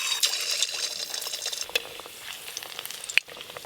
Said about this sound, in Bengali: তেল গরম হয়ে গেছে, এবার কাবাবগুলো প্রথমে ভেজে নেব।